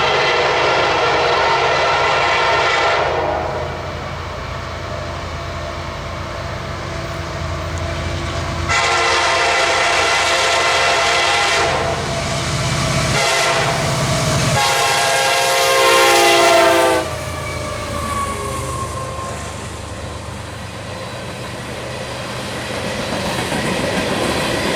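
A CSX freight train, M635, rolls past McKinley Road in North East, Pennsylvania, its horn blaring in long loud blasts over the steady rumble and clatter of cars, the horn cutting off before the roar fades.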